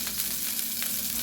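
Sausage fries in hot grease in a pot, a steady close hiss and crackle that holds even for about a second with no talk.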